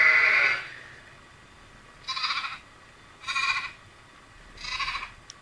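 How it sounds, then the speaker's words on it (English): Goat bleating from a sound app: an opening call followed by three more separate bleats at even intervals, fairly close and clear with nothing else heard. "It's a goat."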